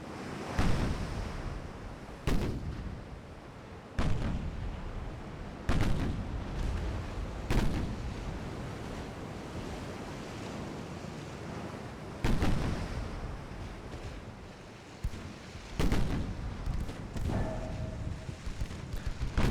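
Naval 7-inch guns firing in a 1905-era warship game, a series of loud, booming blasts roughly every couple of seconds over a constant wash of sea and wind ambience.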